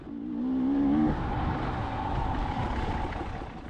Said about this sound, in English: you're going to hear me lugging this motor down low in the RPM range